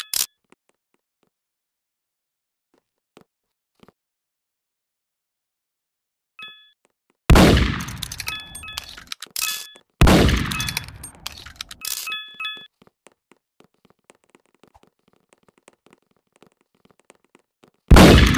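Gunfire in the video game Murder Mystery 2: a few loud, sharp bangs spaced seconds apart, each with a ringing, decaying tail, mixed with brief chime-like dings.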